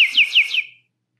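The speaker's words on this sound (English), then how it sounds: "It's a little bird whistle." A small water-filled bird whistle toy gives a quick warbling trill of four rapid chirps, loud and close, which then stops abruptly into silence.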